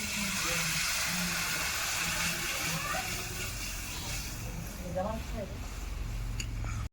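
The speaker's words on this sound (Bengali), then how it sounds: "ঝোলটা সুন্দর ফুটে গিয়েছে" Pabda fish curry gravy with turmeric and tomato paste boils in a pan, giving a steady close hiss and bubbling that runs throughout, while a voice speaks over it.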